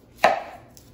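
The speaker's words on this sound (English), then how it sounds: "Let's use the chef knife on this onion." A Cutco chef knife makes a single crisp chop through an onion on a cutting board, close and clear, with a short ringing tail and no voices.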